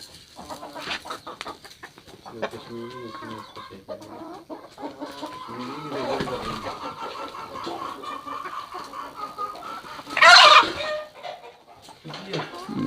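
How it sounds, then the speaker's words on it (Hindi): A rare Kashmiri breed rooster with commercial layer-cross hens clucks and calls in a farm setting, steady nearby clucking with a sharp, loud squawk partway through, while someone talks over it. "इसके साथ में ये जो कश्मीरी नस्ल का ये मुर्गा है"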